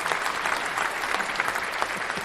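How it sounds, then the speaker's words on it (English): A crowd noise sound effect plays on a hockey podcast, a dense, steady wash of applause and clapping throughout, loud and close with no pauses. "that crowd noise, I think it fully went over your voice"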